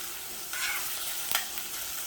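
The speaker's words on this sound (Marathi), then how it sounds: "आता ह्यामध्ये मी कांदा घालते" Chopped onion sizzles steadily in hot oil for methi matar malai, a close, continuous frying hiss with a brief sharper stir of the spoon partway through.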